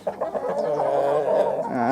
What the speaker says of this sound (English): There's my big alpha rooster, my Wyandotte rooster, some Australorp, some Wyandotte girls